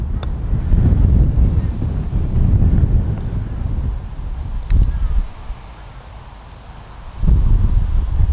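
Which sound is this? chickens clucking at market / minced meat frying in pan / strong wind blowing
strong wind blowing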